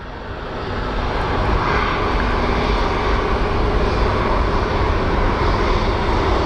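A United airliner departs Phoenix Sky Harbor airport, its jet engines producing a loud, steady roar that builds over the first second and then holds strong to the end, with no talk over it.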